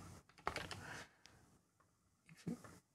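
A password typed on a computer keyboard, a short quiet cluster of soft key presses followed by a brief pause and one more faint tap.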